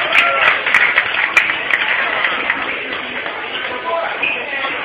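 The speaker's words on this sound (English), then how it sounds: "give him a round of applause" A small crowd gives a round of applause for a man who has just walked on camera, the clapping a steady, mid-distance patter of hands with some shuffling mixed in.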